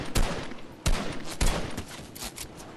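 Gunfire in Fortnite: three sharp, loud shots spaced roughly half a second apart, followed by fainter scattered pops in the background, with no talking.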